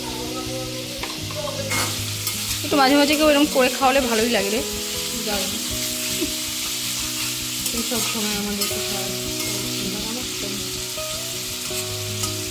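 Meat fries in a pan with a loud, continuous sizzle and occasional stirring scrapes, close by, while people talk over it.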